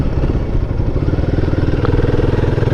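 Royal Enfield Guerrilla 450 motorcycle engine ticking over at idle, a loud close steady thumping pulse with slight fluctuation, heard alone.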